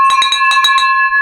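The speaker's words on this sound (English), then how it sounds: "Ring that bell." A small hand bell rung to celebrate a real estate deal clangs several times in a quick, close, bright burst, then its ringing tone fades out.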